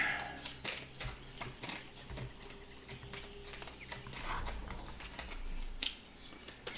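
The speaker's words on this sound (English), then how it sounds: "You want to shuffle that green deck for me?" A deck of game cards for a board game scenario is shuffled at a table, a dense close run of riffling flicks and soft taps over steady room hum, with faint background voices.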